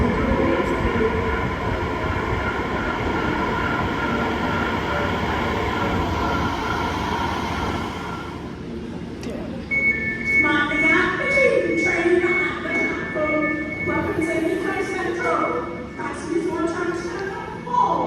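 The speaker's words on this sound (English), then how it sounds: "Please stand back from the platform edge as the next train approaches." A train pulls into the Heathrow Terminals 2 and 3 underground platform, a loud broad roar of wheels and motors that fades, then gives way to a higher whine and hiss as it slows, with a voice announcing over it.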